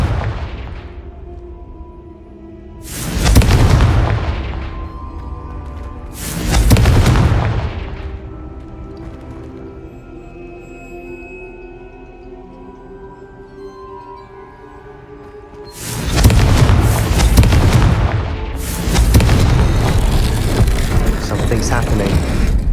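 Confringo spell blasts in the game Hogwarts Legacy erupt as loud, booming explosions, two early bursts and a longer double blast later, each with a rumbling tail over continuous game ambience.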